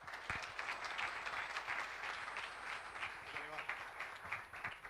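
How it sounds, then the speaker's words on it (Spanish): Faint, distant applause greets speaker Gastón Gugliota at a technology event, a continuous patter of clapping hands that stays low in level, with some speech mixed in. "Recibimos con un fuerte aplauso al señor Gastón Gugliota."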